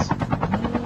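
Helicopter in the mobile shooter Call of Duty Mobile, a steady rotor drone with fast rhythmic chopping pulses throughout, fairly loud and close, no talk over it.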